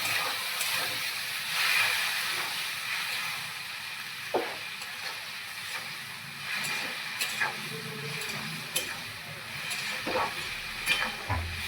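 Spice paste, moistened with a little water, fries steadily in a pan for a chickpea curry, with a constant soft sizzle and occasional scraping stirs of a spoon against the pan throughout.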